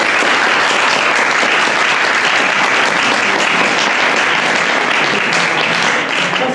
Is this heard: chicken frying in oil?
no